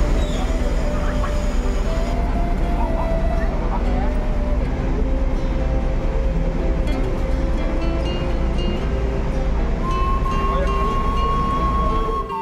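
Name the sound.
passenger train departing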